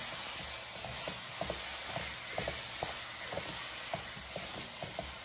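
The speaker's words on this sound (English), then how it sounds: "you can put the meat in and keep. Keep saute them" Beef pieces sautéing in a pan for ragu, a steady close sizzle with soft rhythmic stirring scrapes every half second or so, no talking.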